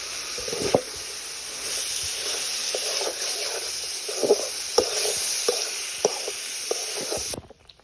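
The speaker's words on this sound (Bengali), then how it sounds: "ভালো করে কষিয়ে নিলে কিন্তু আর গলা ধরে না, গলা চুলকায় না।" Taro stolon curry sautéing in a pan on a clay stove, with a steady sizzling hiss and periodic scraping stirs of a spatula, close and continuous until it stops at the end.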